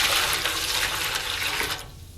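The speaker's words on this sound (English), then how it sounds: "I'm just gonna take some of it here, pour it in this little pan" Brine splashes steadily as it's poured from a container into a small pan, a close, continuous watery rush that stops abruptly near the end, leaving quiet room tone.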